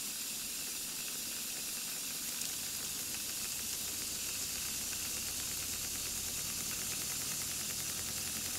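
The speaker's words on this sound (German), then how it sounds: "Der Dampf wirkt, das Kondensat wird herausgedrückt und die Maschine läuft an." Steam engine hissing steadily as condensate is forced out during a final steam test after overhaul, a continuous broadband rush holding near and fairly loud throughout with no voices.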